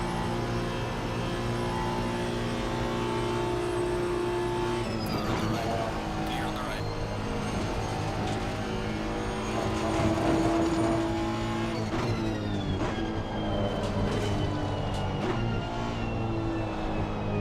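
Honda GT3 race car in Assetto Corsa Competizione screaming along a straight at Paul Ricard, a sustained high engine whine rising through gears with other cars audible, fairly faint and steady.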